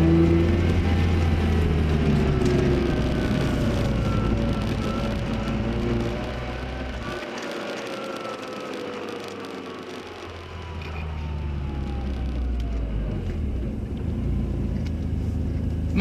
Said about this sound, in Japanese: ロータリーサウンド、これはかなりいいと思います。